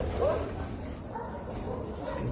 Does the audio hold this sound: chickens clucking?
no